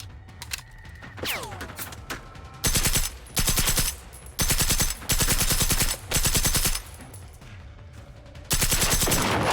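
Automatic gunfire in the video game Generation Zero: several long, loud bursts of rapid shots in quick succession, separated by short pauses, with mechanical clicks and a rising whine early on.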